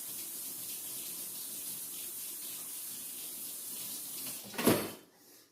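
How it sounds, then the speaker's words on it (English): Kitchen tap water runs steadily as a whisk is rinsed under it, a continuous hiss that ends in a brief clatter and splash before the flow stops. "Take your little whisk and go rinse it off right away."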